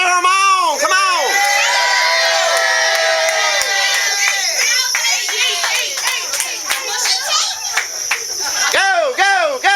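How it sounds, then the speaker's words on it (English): A lively crowd at an outdoor ice cream eating contest in Columbus, Mississippi cheers, claps and shouts encouragement continuously, with excited children's voices rising above the din. "Let's cheer them on. Come on."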